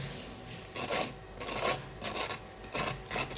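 Crisp crunching bites of a fried potato-dough pastry, four or five in a row, close and quiet with short pauses between them, no talking.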